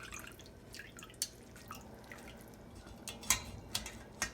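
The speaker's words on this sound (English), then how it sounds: "Make sure that all the water drips out." Water drips from freshly washed green garden vegetables in a series of small, irregular, quiet drops and taps over a soft background.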